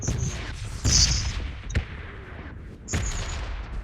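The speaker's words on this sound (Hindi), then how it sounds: "अब यहाँ पे रैंडम गोली चलती है" Scattered gunfire in the BGMI (PUBG Mobile) battle royale game, with several sharp shots and bursts at irregular intervals, some louder and nearer, others fainter, over a low game background rumble.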